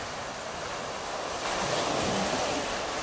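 Ocean waves surge at a shoreline where people are fishing, a loud continuous wash of surf with wind noise that swells louder halfway through.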